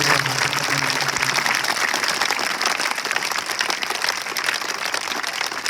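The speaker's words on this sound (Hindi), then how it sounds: "सबसे पहले हम जोरदार तालियों के साथ" Dense, steady applause from a school audience at a farewell ceremony for a staff member at a government senior secondary school in Rajasthan, loud and continuous throughout with no speech over it.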